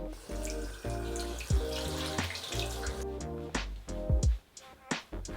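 Tap water runs and splashes into a sink while someone rinses their face, with uneven splashes and drips up close.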